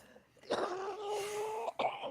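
A single hoarse cough with a throaty, drawn-out rasp, followed by a shorter second cough, close to the microphone.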